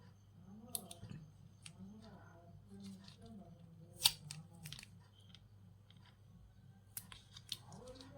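Scissors snip tape while a 3.7V lithium battery charger is being assembled: scattered crisp clicks and cuts up close, with one louder snip in the middle and faint handling noise between them.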